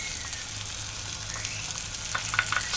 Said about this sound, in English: Next, stir in your stir fry sauce and then add that as well.